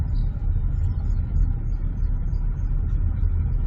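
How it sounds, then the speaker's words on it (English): Low, steady road rumble inside a moving car, with a tire rubbing against the body as it drives; a continuous droning noise runs throughout, with no talking. "It sounds like my tire is rubbing or something."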